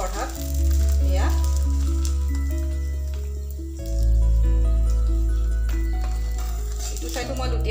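Paratha sizzling in a little oil in a pan, a continuous loud crackle that swells and eases, close by, with someone speaking in the background.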